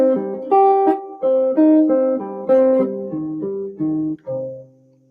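Guitar picking minor triad notes one at a time in a descending pattern, about eight clear plucked notes in an even rhythm, each ringing briefly before the next, with the last note left to fade.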